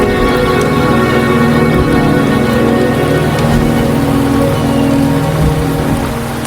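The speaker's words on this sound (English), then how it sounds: "The rain is subsiding, and the sky will soon clear." Steady rain in the Wuthering Waves video game pours down in a loud, continuous hiss of drops on surfaces, with a faint low rumble beneath and no voices.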